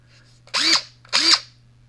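A DeWalt 20-volt cordless drill, 3/8 or 1/4 size, gives two short, close, loud whirring bursts, each rising and then falling in pitch, with a steady low hum underneath.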